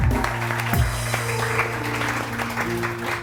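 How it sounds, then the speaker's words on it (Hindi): Studio audience applause on a morning television talk show, a continuous patter of clapping blended with background music and faint voices. "बहुत सारी तालियां माविया के"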